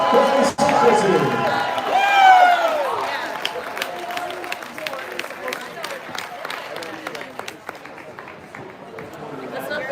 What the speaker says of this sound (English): Please, another round of applause for the OAS boys soccer team.